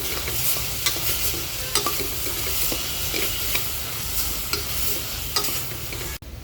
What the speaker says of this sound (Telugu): పసుపు, కారము, కొద్దిగా ధనియాల పొడి వేసుకుని కలుపుకోవాలి.